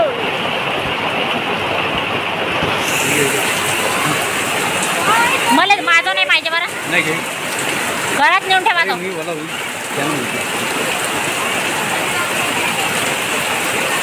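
Heavy rain pours down steadily on the day of Hartalika, a dense continuous hiss that runs through the whole stretch, while voices talk briefly over it in the middle.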